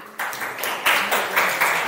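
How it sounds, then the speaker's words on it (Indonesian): Brief burst of classroom applause for a student group, a short patter of clapping hands that swells after a quiet start. "Tepuk tangan buat kelompok 4"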